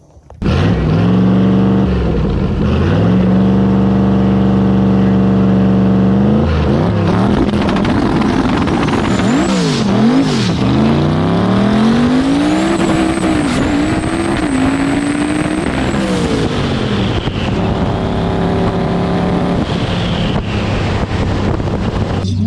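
A drag race car roars through a pass, its engine note rising and wavering as it spins off the hit and the driver pedals, loud and close throughout with heavy wind buffeting.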